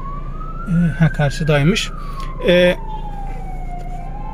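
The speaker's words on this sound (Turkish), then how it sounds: "Ambulans var arkamızda galiba." An ambulance siren wails from behind a Nissan Qashqai 1.6 diesel automatic on a long highway drive, its tone rising and falling steadily throughout while people inside the car speak briefly over it.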